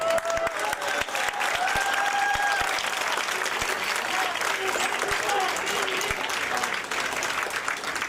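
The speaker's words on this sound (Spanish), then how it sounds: "vamos a concluir con un fuerte aplauso" Steady applause from a crowd fills the whole stretch, with scattered sharper claps and a few voices calling out over it.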